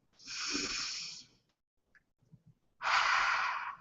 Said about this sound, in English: In my healing jewelry course, we always do the inhale and exhale. It's like a centering breath.